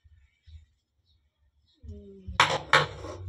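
Plates and cutlery clatter in a sink during dishwashing with a sponge, quiet at first, then two loud, close clanks of dishes near the end, with faint low rumbling between.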